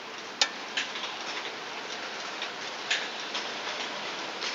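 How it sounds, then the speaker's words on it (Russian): Rain dripping outside on a spring day, a steady soft patter with a few sharper drips standing out, fairly faint and heard alone. "Не знаю, слышно вам или нет, как капает дождик."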